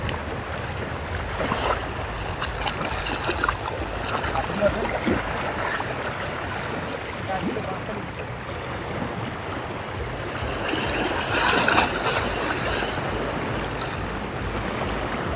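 Water laps at the muddy shore of Ghoramara island at falling tide, a continuous soft washing and sloshing up close with a faint wind and muffled background voices.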